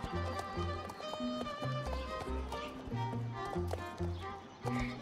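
Horse hooves in the video game Star Stable clip-clop in a rapid running rhythm, close and steady, mixed with game music tones throughout.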